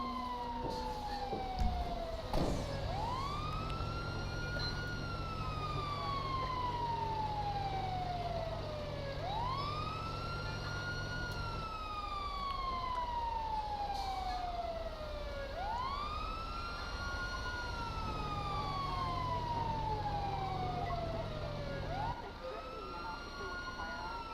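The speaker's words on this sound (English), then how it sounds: "So those sirens in the background might not be mine." Wailing emergency vehicle sirens in a Los Santos fire-response video game, sweeping up and down in repeated long cycles alongside a steady low horn-like drone, loud and continuous with faint talk underneath.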